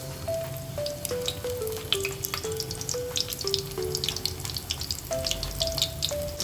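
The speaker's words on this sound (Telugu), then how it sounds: "ఇప్పుడు ఏవైతే మసాలాలు మనం వంకాయకి పట్టించామో ఆ వంకాయలన్నీ కూడా కొంచెం ఆయిల్లో ఫ్రై చేయాలి" Masala-stuffed brinjals sizzle steadily in oil for an Andhra-style gutti vankaya curry, a soft continuous frying hiss with a gentle melody playing underneath.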